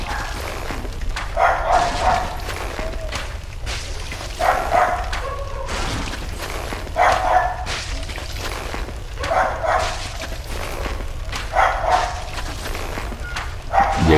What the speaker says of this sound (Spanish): ¿Qué le pasa aquí a los perros? No ve cómo están.